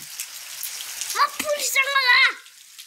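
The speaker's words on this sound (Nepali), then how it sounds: "आजको मौसम चाहिँ यस्तो छ पानी परेको परे" Steady rain patters and hisses throughout, while a voice speaks briefly over it partway through.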